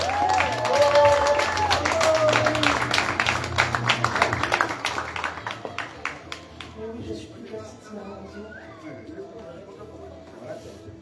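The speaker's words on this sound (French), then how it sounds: "je vous demande d'accueillir Madame Vanille Manville. Sous vos applaudissements." A conference audience applauds as a speaker is welcomed on stage at an evening event in the Caribbean: dense clapping starts loud with a music tone over it, then thins into scattered claps that fade toward the end.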